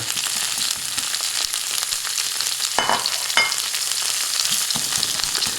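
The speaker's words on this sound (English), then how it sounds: "Spread it out and add our onions and red pepper. We're going to saute these until the onion just starts to appear clear." Chopped onions and red pepper sauté in a hot pan for a Bengali fish curry, a dense steady sizzle broken by a couple of sharp scrapes from a spatula.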